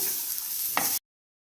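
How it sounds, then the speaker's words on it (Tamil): Pirandai (adamant creeper) chutney mixture with garlic and ginger sizzles as it roasts in a pan, a steady, soft frying hiss with a single scraping stir near the end before it cuts off. "நம்ம இதை ஃபுல்லாக வறுத்துருவோம்."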